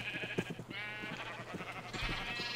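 Sheep in Minecraft let out a series of wavering, nasal bleats, several overlapping calls spread across a couple of seconds, close and clear with a few soft clicks between them.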